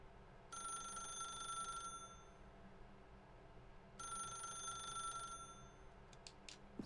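A telephone in The Stanley Parable rings in two bursts of an electronic trill, each about a second and a half long with a pause between, fairly faint, followed by a few soft clicks.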